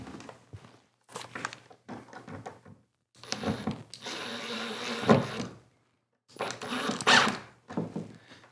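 A decorative screw with a washer behind it is driven into a door latch, giving several short scraping, clicking bursts of hand-tool work separated by pauses, close and moderately loud.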